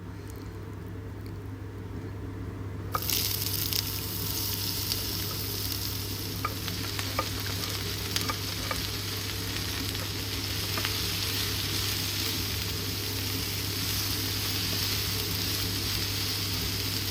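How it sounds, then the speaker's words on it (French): Sliced onions sizzle in olive oil after a quieter opening, then a loud, steady frying hiss begins with scattered clicks of stirring over a constant low hum. "vous allez le faire revenir dans l'huile d'olive"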